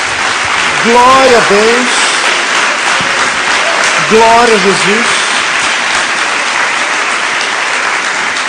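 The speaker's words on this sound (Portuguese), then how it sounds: "Dá salva de palmas a Jesus." A church congregation applauds in a continuous loud wash of clapping, while a voice sings or chants over it twice.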